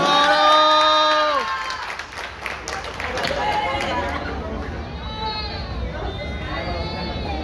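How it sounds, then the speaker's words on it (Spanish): A crowd at a holiday resort in Ixtapa applauds and cheers for Kimberly: a loud voice at the start, then a mix of clapping, whoops and chatter with other voices talking over it. "fuerte los aplausos para Kimberly"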